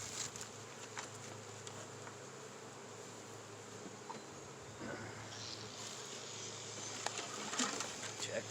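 Honey bees buzzing around a hive being split to make a new colony for orchard pollination, a steady faint outdoor drone of many insects with scattered louder passes near the end.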